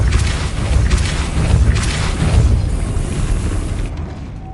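Depulso force spell cast in Hogwarts Legacy to spin a mechanism and raise a platform, a loud sustained booming rush with rumbling low end that fades out toward the end, no talking.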